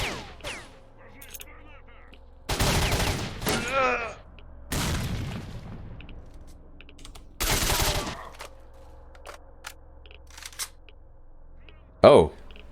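Gunfire in the S.T.A.L.K.E.R. video game, several loud bursts of automatic fire separated by quieter gaps, with a sharp single crack near the end.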